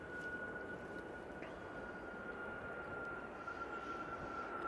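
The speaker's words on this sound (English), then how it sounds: "And we have this TUI 737-800." A TUI Boeing 737-800 at Manchester Airport gives a faint, distant, steady engine rumble with a thin high whine above it, heard alone with no talk.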